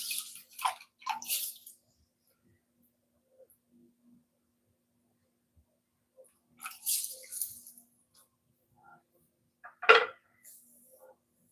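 Water splashes and trickles in short, separate bursts as it is poured out of a pottery piece in a studio, close by, with quiet pauses between the pours.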